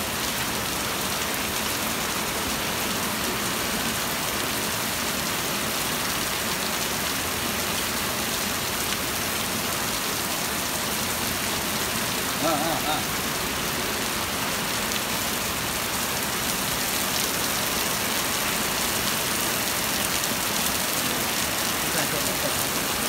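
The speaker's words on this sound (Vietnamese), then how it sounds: "Ở bên đây thì mưa rất to." Heavy rain pounds down steadily during a hailstorm at a city roundabout, a dense, even hiss that continues unbroken, with faint voices barely present underneath.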